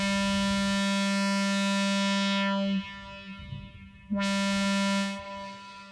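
A Verbos complex oscillator on a modular synthesizer holds a steady buzzy tone rich in harmonics. It drops to near silence, swells back in, then fades, alone with no talk.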